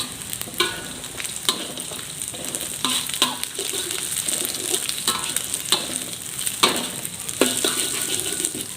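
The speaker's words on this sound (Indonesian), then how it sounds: "Tapi kita tumis di awal agar bau langunya hilang." Chili and galangal stir-fried in a pan: a steady close sizzle broken by repeated scraping and clacking strokes of a spatula against the pan.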